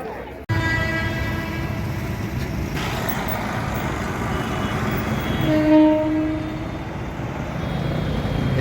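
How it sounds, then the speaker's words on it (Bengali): A Burdwan chord line train rumbles past Bally Halt station, a steady loud rolling drone with a brief tonal horn-like note midway, heard close by without speech. "এটা বালি হল্ট দেখুন, বর্ধমান কোয়ার্ডের ট্রেন যাচ্ছে"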